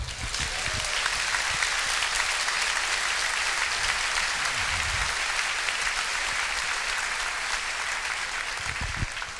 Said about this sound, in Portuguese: Se questão de acordo, aplaudam o Senhor.